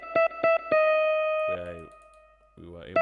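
Virtual guitar in a Lingala beat treated with a reverb send: bright plucked notes and a few short phrases, each ringing tail hanging on and decaying after the attack, with gaps of near-silence between.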